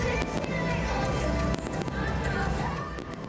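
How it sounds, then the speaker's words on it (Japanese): Fireworks burst in sharp, booming cracks at irregular intervals over a steady roaring crowd and rumble, some blasts landing close together, at the Makomanai fireworks festival at Makomanai Sekisui Heim Stadium, with launches synchronized to lighting and music. "花火が夜空に打ち上げられました"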